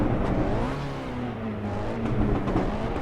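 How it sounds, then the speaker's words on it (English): A car in the racing game Assetto Corsa EVO revs and pops with backfire, a close, loud engine roar swelling and dipping over a few seconds with sharp crackles on the overrun. "Listen to the backfire there."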